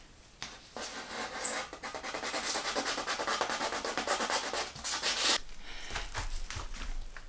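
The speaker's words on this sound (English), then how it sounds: "I'm just going to kind of push down and burnish it into the foam so that I get a nice smooth edge." Close, steady rubbing and scratching as fiberglass cloth is burnished down by hand onto the edge of an XPS foam surfboard, a continuous scuffing texture lasting several seconds before fading out.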